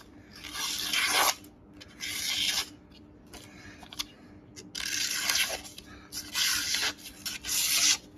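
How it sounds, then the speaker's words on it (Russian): A kitchen knife blade sharpened by hand on fine 1000–1500 grit sandpaper, repeated rasping scraping strokes in an irregular rhythm with short pauses between, close and fairly quiet. "Если вот сейчас взять 1000-ную или 1500-ную наждачку и на ней поточить его"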